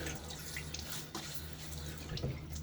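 Running water from a sink tap streams steadily with light splashing as water is splashed onto a face, close by and continuous, with no voices.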